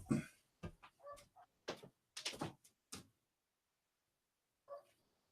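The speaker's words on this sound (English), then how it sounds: "there is a dog of the neighbor is making noise" A neighbour's dog barks outdoors in a string of short, irregular barks over about three seconds, moderately close but not loud, then falls quiet before one last isolated bark.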